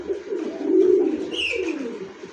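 A Golden Swift pigeon held in the hand gives a soft, throaty coo, a low rolling call lasting a couple of seconds, close and clear, with no talk.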